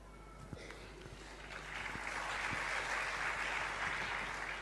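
Audience applause at a Jain religious discourse gathering, a steady crowd clapping that swells after the first second and holds loud and dense to the end, with no speech over it.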